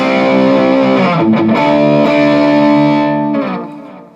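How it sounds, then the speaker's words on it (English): An electric guitar played through a Wampler Sovereign high-gain distortion pedal rings out as one loud, thick sustained chord with a brief bend in the middle, then fades as it decays. "we're going to compare maybe the sound of that to the Wampler Sovereign"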